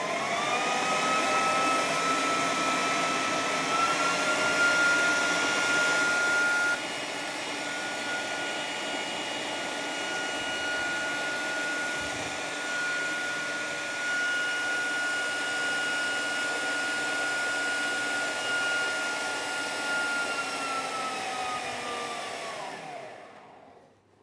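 An electric mixer whips egg whites at high speed in a pastry kitchen, a loud, steady whirring drone that holds for over twenty seconds, eases slightly partway through, and cuts off at the end.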